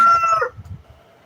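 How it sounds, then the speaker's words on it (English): Chickens in a home garden flock, with a loud rooster crow fading out over the first half, followed by scattered low clucking and grumbling. "the chicken crew"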